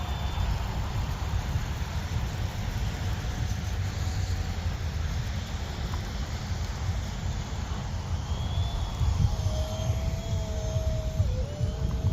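A brushless electric ducted-fan FX9631 J35 RC jet flying in light snow, giving a steady, fairly loud whooshing whine that holds almost constant, with a faint rising and falling tone passing late on and no talk.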